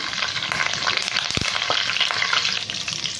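Vegetables frying lightly in a pan give a loud, close crackling sizzle, broken by stirring scrapes and one sharp clunk of the utensil against the pan.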